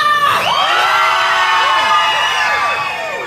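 Women in a crowd at an outdoor hip hop festival performance scream and cheer loudly, high-pitched voices whooping together for a few seconds before tapering slightly.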